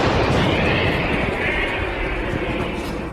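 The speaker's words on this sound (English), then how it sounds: "The Ukrainian-made Bodana cannon is in operation." Ukrainian-made Bodana cannon firing during combat against an assault in Kharkiv, a loud sustained rumble of artillery blasts with dense, noisy booms filling the whole stretch.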